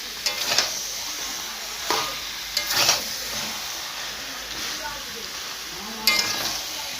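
Country chicken pieces fry in a pan and are stirred steadily, with a continuous sizzle and scraping stir strokes that come through clearly at intervals.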